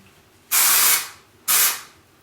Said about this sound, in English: I'm going to spray a little bit of this KMS makeover spray